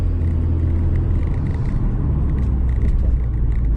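A Subaru Forester's horizontally opposed boxer 2.0 engine accelerates through congested city traffic, a steady loud low rumble that holds evenly for the whole stretch with no voices over it.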